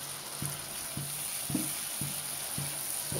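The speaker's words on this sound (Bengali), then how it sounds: "এটাকে একটু ভালো করে কষিয়ে নেব।" Fish head masala stir-fried in a pan with cumin and lime leaves, a steady sizzle with soft periodic scrapes of a spatula roughly every half second, close and moderately quiet, no talking.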